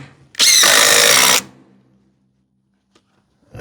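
A power drill drives a 2.5 inch screw into wood for a quail house, one loud, close whir lasting about a second before cutting off into near silence.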